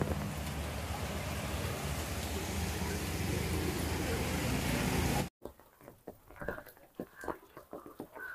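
Steady rain patters on an umbrella held by someone walking, a dense loud wash that cuts off abruptly, followed by quieter, sparser drops and light handling sounds.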